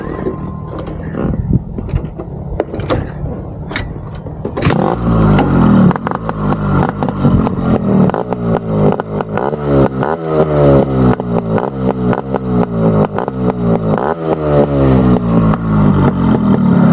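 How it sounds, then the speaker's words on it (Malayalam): A Yamaha RX-Z motorcycle engine starts after a few seconds of quiet mechanical clicks and rattles, then revs loudly and close up in repeated rising and falling bursts, with no talking. "ഞാൻ കാണിച്ചു തന്ന പോലെ വണ്ടി ഒന്ന് സ്റ്റാർട്ട് ചെയ്ത് കാണിച്ചു തരാം"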